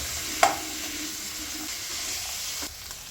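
Mixed vegetables fry in oil for egg paneer fried rice, giving a continuous sizzle with a sharp clink of a spatula early on and light stirring scrapes, close and without speech.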